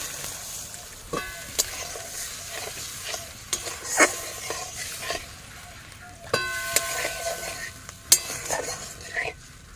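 Ground spinach paste fries in oil with a little water while a spatula stirs it, repeated metallic scrapes and clinks against the pan over a low, steady sizzle.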